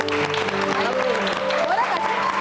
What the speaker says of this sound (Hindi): थोड़ा सा ऑडियंस के लिए हम तालियां बजाएंगे